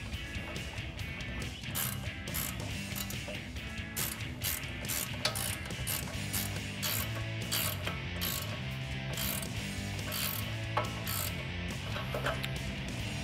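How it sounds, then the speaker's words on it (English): A 21 mm ratcheting wrench tightens a nut on a Rough Country leveling strut on a 2019-2022 RAM 1500, with continuous close, rapid ratchet clicking throughout and no talk. "take our 21 millimeter ratcheting wrench and snug this down"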